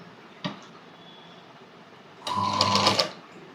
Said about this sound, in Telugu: ఈ కట్ని ఇక్కడ ఈ బ్లౌజ్ సైడ్ పెట్టుకొని మనం స్టిచ్ చేసేసుకోవాలి